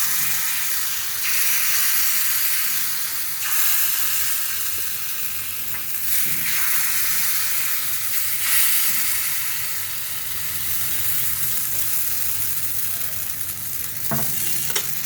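Carrot pitha batter drops into an oiled, hot shaj mould and fries with a steady, close sizzle and hiss, broken by a few brief louder spatters and a light metallic tap near the end.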